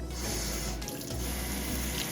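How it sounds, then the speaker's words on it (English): Running tap water streams steadily into a sink as rice is washed in a mesh strainer, a continuous near splashing rush with small shifts as the grains are moved. "Wash it until you see the water clear."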